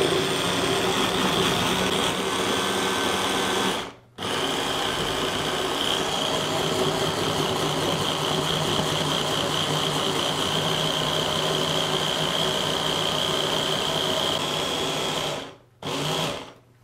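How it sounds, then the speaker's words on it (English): Blender pureeing fresh tomatoes for a paleo meatloaf, giving a loud, steady motor whir that runs alone, cuts out briefly twice, then resumes. "So that's a really good way of just blending that up."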